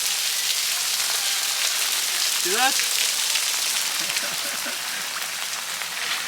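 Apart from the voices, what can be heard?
heavy rain falling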